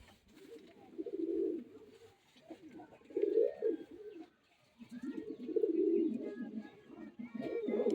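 A male Jiriya pigeon coos close by in a run of repeated low, throaty coos with short pauses between them.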